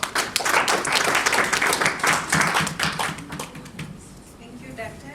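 A seminar audience claps for Dr. Nkatha after a medical presentation, with dense, brisk applause that is strong at first and then thins and fades toward the end.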